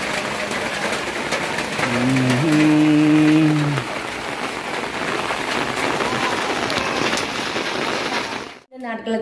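Rain falls steadily in a broad hiss on surfaces during a rainy day in Jaffna, with a voice briefly singing or calling over it, and the patter continues until a short break near the end.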